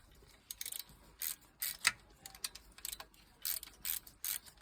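Wrench ratcheting on the bolts of a Volvo Penta marine engine's dipstick holder and clamp, with close bursts of rapid metallic clicks separated by short pauses.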